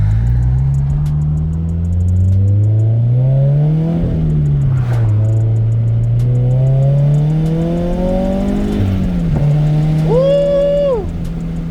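Turbocharged Subaru BRZ engine accelerating hard through several gears, rising and dropping pitch with each shift, heard from inside the car; near the end a brief backfire pop and a short whistling whine as it lets off.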